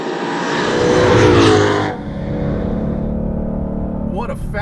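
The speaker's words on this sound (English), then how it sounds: "What a fabulous exhaust setup." 2020 Shelby GT500 exhaust accelerating hard in a tunnel, a loud rising roar that peaks and cuts off, then a lower echoing burble settles before a brief sharper sound at the end.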